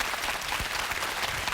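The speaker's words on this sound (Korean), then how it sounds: "아주 좋은 의견을 박수 한번 쳐" A lecture audience briefly applauds a student's answer at a humanities talk, a short, fairly faint burst of scattered clapping.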